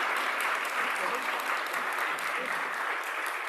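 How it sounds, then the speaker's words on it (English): Sustained audience applause for session speakers at a public health event, steady and even throughout with dense overlapping claps filling the room. "Please, a round of applause for the speakers."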